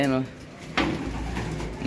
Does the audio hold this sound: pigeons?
yes